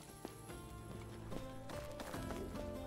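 Faint clip-clop of horse hooves approaching in Medieval Dynasty, a few soft scattered hoofbeats sitting low beneath steady background music.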